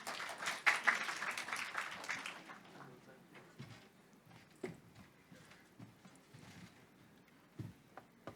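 Audience applause for a speaker at a CEO forum, a loud burst of clapping that fades after two seconds into scattered faint claps and room noise.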